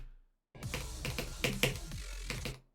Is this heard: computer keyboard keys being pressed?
yes